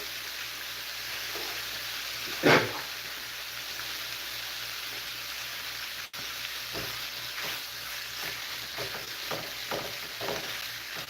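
Bacon frying in a pan gives a steady, close crackling sizzle throughout, with a brief louder burst of spattering early on and small pops scattered across the rest.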